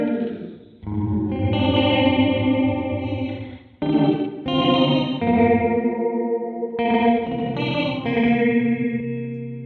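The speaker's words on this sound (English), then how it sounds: "Creates ghostly modulated feedback in clouds of sound fragments." A sustained, shimmering guitar tone through a Red Panda Context V2 grain reverb pedal, washed in chorus-like modulation and grainy, fragmented echoes, swelling and shifting in pitch in a continuous ghostly cloud.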